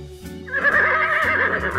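A toy horse neighs once, close and clear, a quavering whinny that rises and wavers for over a second, during a BRIO toy train demo.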